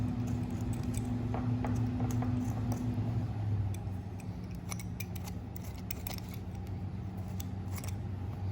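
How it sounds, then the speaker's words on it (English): Sharp scissor snips cutting red meat away from deer ear cartilage during taxidermy prep, a close series of irregular crisp clicks over a low steady background hum, with no talking. "you wanna start cutting off all this red meat from this cartilage"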